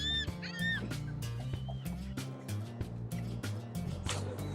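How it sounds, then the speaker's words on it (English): Waterbirds call from the water about fifty yards off on the Texas coast in winter, a busy run of goose-like honks and squawks over a steady low boat rumble. "those birds are staying just about 50 yards right in front of us"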